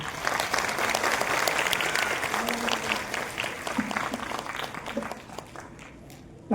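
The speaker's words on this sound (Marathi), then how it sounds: "टाळ्या वाजवल्या की जरा जास्त छान वाटत आहे" Audience at a large Buddhist assembly claps steadily, a dense roomful of applause that stays strong then thins toward the end, with a voice briefly audible over it.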